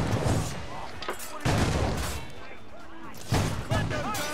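Ship cannons and grenades go off in Assassin's Creed Rogue naval combat, heavy booms arriving in three loud bursts amid continuous battle noise and crackling fire.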